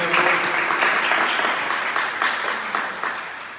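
An audience applauds after a catechesis talk, a dense, steady clapping that fills the whole stretch at close range with no voices over it.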